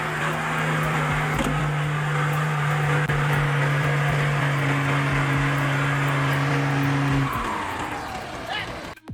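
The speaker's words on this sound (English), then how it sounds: "The large truck loaded with wood was moving on a rough dirt road, struggling with the difficult road." Large truck loaded with logs on a rough dirt road in a remote logging region of China, its engine droning steadily at a low pitch under outdoor noise before fading near the end.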